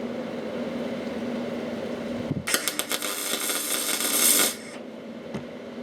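MIG-style arc welding with wire feed, heard as a burst of crackling, sputtering arc about two seconds long over a steady workshop hum, ending abruptly; close and moderately loud.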